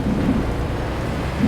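Thunder rumbles low and steady through rain on a misty mountain road with hairpin bends near Munnar, a dense continuous roar with no talk.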